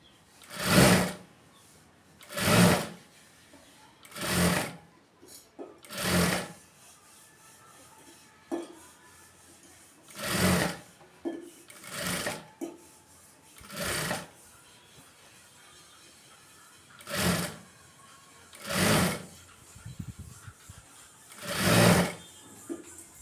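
A sewing machine stitches a cross piece onto a garment neckline in short separate bursts, about a dozen runs spaced by pauses, close and fairly quiet, with faint handling of the cloth in between.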